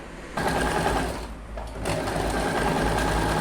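A sewing machine stitches a half-inch folded hem on a kurti sleeve, running in loud, close, fast whirring bursts with a short pause midway and no speech.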